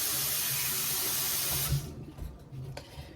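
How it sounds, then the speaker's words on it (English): Water gushes from a kitchen tap to rinse garlic, a loud steady hiss that suddenly cuts off, leaving faint dripping and soft clatter at a sink. "let me rinse the garlic real quick"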